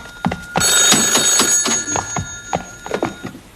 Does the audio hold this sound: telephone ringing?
yes